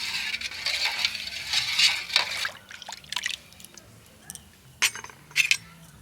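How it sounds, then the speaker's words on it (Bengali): Spoon stirring household ingredients into water for homemade phenyl, giving close metallic clinks and liquid swishes that come in uneven bursts, with a few louder taps near the end. "একটা করে উপকরণ দিতে হবে আর এইভাবে সুন্দর করে মিশিয়ে নিতে হবে জলের সাথে"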